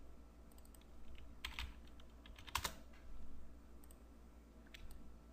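Light keystrokes on a computer keyboard, a few scattered soft clicks with short bursts of typing, faint and close with no talk.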